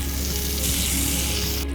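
A French toast sandwich fries in a pan, giving a dense, steady, close sizzle that stays loud and even throughout.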